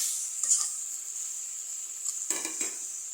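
Onion, ginger, garlic and mustard pastes fry in a pan for a mustard curry with okra and papaya, giving a steady high sizzle with a few soft stirring scrapes and light utensil clinks.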